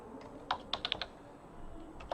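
Keys on a computer keyboard are tapped in a quick burst of several clicks, then a pause and a couple more taps, quiet and close against a faint background hum.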